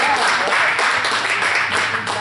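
Applause fills a room at a billiard class finale, steady and dense throughout, with many hands clapping nearby and a hint of voices beneath.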